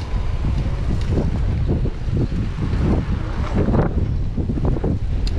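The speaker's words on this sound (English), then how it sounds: "It's pretty windy here." Strong, steady wind buffeting the microphone with low rumbling gusts throughout, loud and close, no voices, on an evening bike ride through The Hague.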